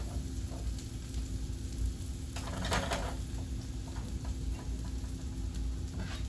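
Zucchini caramelizing in a hot pan gives off a steady, close sizzle and patter that runs the whole time, with a brief louder crackle burst partway through and no talking.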